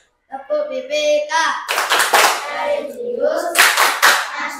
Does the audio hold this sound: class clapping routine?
yes